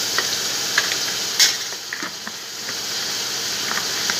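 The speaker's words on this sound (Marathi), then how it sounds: "आता चांगलं फ्राय करायचं दोडकं." Ridge gourd frying in oil with goda masala gives a steady, soft hiss and sizzle throughout, with a few faint clicks of stirring.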